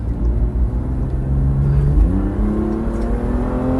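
A BMW M2 Competition race car engine at Sandown circuit drones loudly from inside the cabin, its pitch climbing steadily under acceleration with a brief dip around a gear change.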